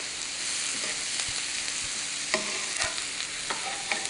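Chopped onion sautéing in butter on the stove, a steady close sizzle with occasional stirring scrapes and light taps, no talking.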